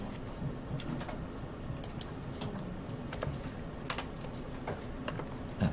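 Rapid, irregular presses on a computer keyboard during a spreadsheet formula lesson, a steady run of light clicks close by with no talking.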